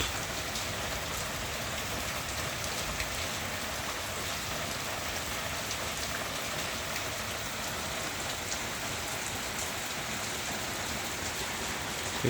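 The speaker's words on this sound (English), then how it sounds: "It rained heavily on the 20th of June" Heavy monsoon rain pouring down in Bangalore, a dense, steady hiss of rain on surfaces, constant and enveloping throughout with no voices.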